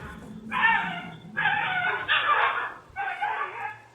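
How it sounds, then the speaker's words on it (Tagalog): A dog in a residential compound in Valenzuela cries at night on CCTV after being abused, giving several drawn-out whimpering yelps in separate bursts, fairly close and loud against faint background noise. "Maririnig ang iyak ng asong si Kobe."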